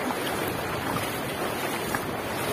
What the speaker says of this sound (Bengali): আর আওয়াজ, জলের আওয়াজ, স্রোতের আওয়াজ